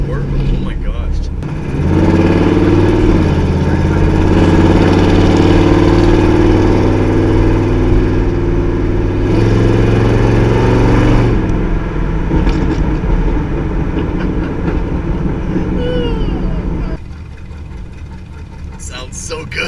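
A Chevy 350 V8 with its muffler deleted runs loud and steady, a deep rumbling idle with a heavier stretch in the middle, under a person's excited talk.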